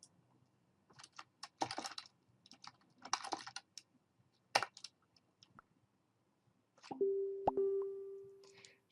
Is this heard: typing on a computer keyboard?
yes